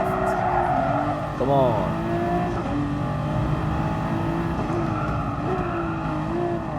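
LaFerrari race car in Gran Turismo Sport, engine droning steadily at high revs with a quick upward rev partway through while a voice talks over it.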